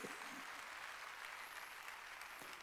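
A church congregation claps during a Sunday worship service, a faint, even wash of applause from a distance with no clear individual claps standing out.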